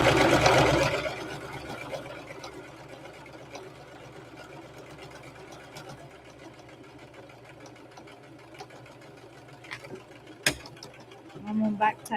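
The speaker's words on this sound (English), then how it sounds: "I'm just sewing it up." Sewing machine stitching fabric with tension trouble, a mechanical whirr strongest at the start then fading to quiet, low running and scattered clicks; a person talks over it.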